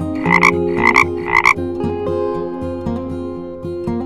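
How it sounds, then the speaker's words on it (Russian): A frog croaks three times in quick succession, loud and close, over a steady bed of children's background music that carries on to the end. "Лягушка."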